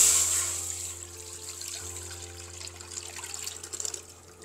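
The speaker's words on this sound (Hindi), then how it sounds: "दाल माश हमने भगो के रख ली थी, अब पतीली में डालेंगे" Soaked black lentils (dal mash) tipped from a container into a cooking pot in a home kitchen, a wet splash and trickle of water and grains that starts loud, fades, then rustles again near the end.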